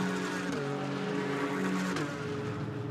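Porsche Carrera Cup race cars roar past on the Silverstone back straight, a steady loud engine drone with rising and falling pitch as several cars go by, without talk.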